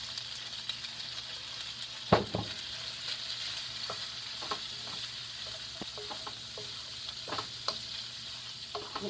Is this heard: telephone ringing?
no